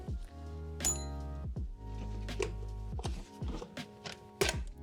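Metal clamp coming off a tie rod on a Volvo XC90 under repair, a sharp clink followed by clattering knocks and thunks of tools and parts, close and moderately loud, with no talking.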